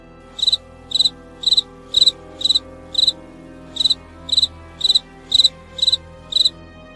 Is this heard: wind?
no